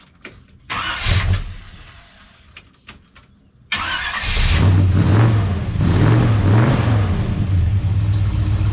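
1968 Chevy C10 pickup truck with a Heartthrob exhaust being started: a few clicks and a cranking attempt, then the engine catches and settles into a loud, rumbling idle with wavering low tones, close by and without talk.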